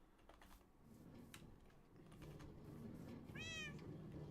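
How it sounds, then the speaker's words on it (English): A house cat gives a single faint meow late in the clip, far off over a steady low background hum and a few soft clicks. "No, that was your cats."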